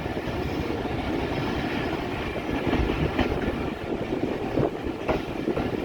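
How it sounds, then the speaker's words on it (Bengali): Rajbari Mail train rolling into rural Talma railway station in Bangladesh, a loud continuous rumble with rhythmic clickety-clack of wheels over rail joints, close by and without speech. "ট্রেন তালমা রেলওয়ে স্টেশনে প্রবেশ করছে।"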